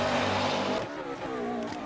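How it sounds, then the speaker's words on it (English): Race cars in the sim-racing game rFactor 2 roar past in a loud, close engine whine that drops in pitch as they go by, followed by further passing engine noise. "I don't want to hear all the cars whizzing by while I'm trying to concentrate here."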